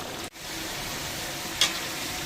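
A papaya and potato fish curry sizzling in a pan as it is sautéed before water goes in, a continuous close crackling hiss with one short break and a small spike near the end.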